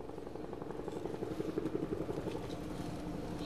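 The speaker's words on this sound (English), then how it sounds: "there's a flyby in honor of all the veterans, right on time, says Dick." A Mississippi National Guard helicopter flies by in honor of veterans, its rotor thumping rapidly and building in loudness as it passes over an open outdoor setting.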